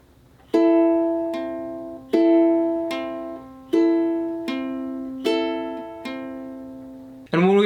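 Ukulele fingerpicking a song's pattern at a slow pace, plucked strings ringing in repeated groups of notes that decay between each new pluck, clear and close with no voice.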